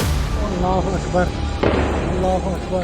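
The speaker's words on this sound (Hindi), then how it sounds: "बायसरन घाटी में गोलियां चलने लगी थी।" Gunfire erupts in Baisaran valley, Pahalgam, during an attack on tourists: a single sharp crack cuts through loud outdoor noise while someone shouts repeatedly close to the microphone.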